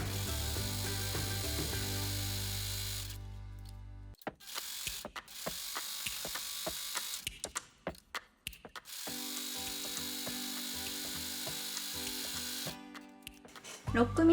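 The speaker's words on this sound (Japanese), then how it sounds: "ここの部分にロックミシンをかけます。" An overlock serger sewing machine stitches along fabric edges of a dress, a rapid mechanical whirring in bursts that stop and restart, with clicking handling sounds in the pauses.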